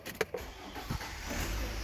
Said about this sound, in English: I reach into the car and crank it up.